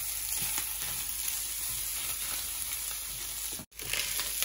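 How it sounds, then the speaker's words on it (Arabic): Kebab pieces frying in a pan until browned for a homemade kebab sandwich give a steady, close, continuous sizzle with a brief dropout near the end. "الكباب ديالي كما كتشوفوا درته هنايا راه يطيب وغادي نخليه حتى يتحمر مزيان"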